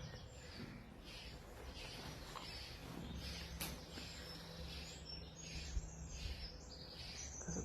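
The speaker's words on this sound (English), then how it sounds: "There's a bird's nest in that vent. I can just hear it." Birds chirp faintly from a nest inside a vent at an abandoned WW2 black powder factory, with thin, scattered calls over a steady background hum.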